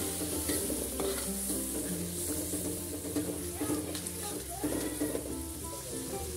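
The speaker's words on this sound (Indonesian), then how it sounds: "Tambahkan udang rebon, lalu tumis sampai matang." Small dried shrimp (udang rebon) sautéing in a pan, a continuous close sizzle and frying hiss with stirring scrapes throughout.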